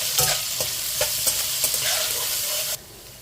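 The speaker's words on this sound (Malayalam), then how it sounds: "എണ്ണ നന്നായിട്ട് ചൂടായിട്ട് നമ്മൾ എടുത്തു വെച്ചിരുന്ന ഇഞ്ചി വെളുത്തുള്ളി സവോളയും അങ്ങോട്ടിടാം ഒന്ന്" Chopped ginger, garlic and onion sautéing in hot oil, a loud close sizzle with rhythmic stirring scrapes of the spoon, cutting off abruptly near the end.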